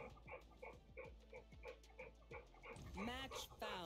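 A female dog whines and yips repeatedly in short, pitched bursts at close range, and a person starts talking over it toward the end.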